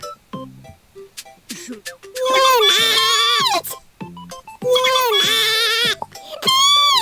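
A human voice imitates a sheep, giving wavering bleats in two long bursts and a final short one, mixed with other clipped vocal noises and speech-like sounds, close and fairly loud.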